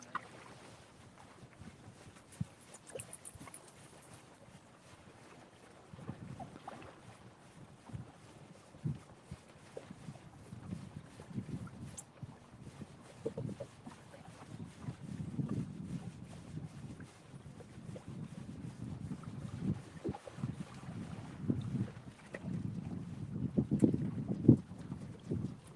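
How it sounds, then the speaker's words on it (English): Wind gusts buffet the microphone out on the Ohio River from a boat, a low rumbling roar that rises and swells toward the end, with faint knocks and no clear talk. "I just feel like the wind's been blowing."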